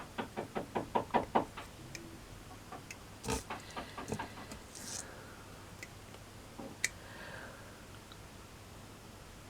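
Neighbours decorating or building next door knock in a quick run of about ten muffled thuds, then scattered fainter bangs and taps through the wall.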